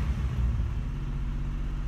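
A cold Acura Integra engine idles high, a steady low rumble holding close and even for the full stretch with no talk over it.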